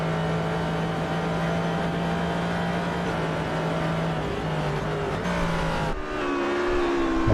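Onboard engine of a dwarf car in a racing sim at Sebring, a loud steady droning engine note held through turn 16, dropping in pitch near the end as the car lifts or shifts, with no talking.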